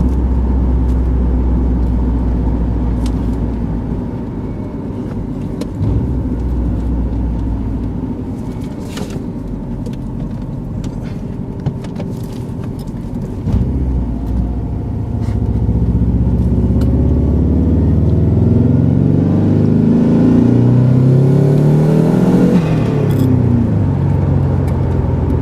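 A 2000 Subaru Outback fitted with a swapped STi engine rumbles loudly from inside the car, then the note rises as it accelerates hard, with the engine building strongly toward the end.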